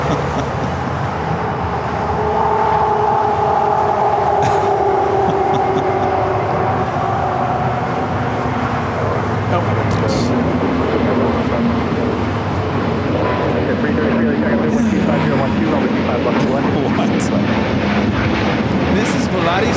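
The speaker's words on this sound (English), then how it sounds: "7855 taking off to Aguascalientes on the A320neo." Volaris Airbus A320neo taking off at LAX, a rising engine roar with a drifting whine building from a few seconds in and sustained to the end, with people talking over it.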